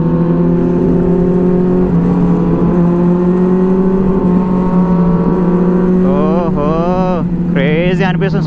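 A Benelli 600i superbike fitted with a dual SC replica exhaust drones steadily at close range on a night ride, with rising revs near the end and another engine blending in.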